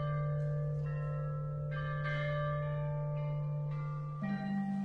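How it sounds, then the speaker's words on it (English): A monumental ancient Chinese bronze bell set from just after Confucius' death rings out in a sequence of clear, sustained struck tones, each new strike layering over the long ringing decay of the last. "played on totally wonderful things like this monumental set of bells that dates to just after Confucius' death"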